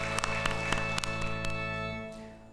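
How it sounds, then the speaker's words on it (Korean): Congregation applauding during a Sunday church service, a few seconds of scattered hand claps over sustained organ or keyboard chords, fading out at the end. "우리 하나님께 영광의 박수를 바랍니다"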